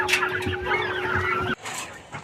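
A turkey gobbles and clucks close by in a rapid burst, then a shorter softer call follows after a brief pause.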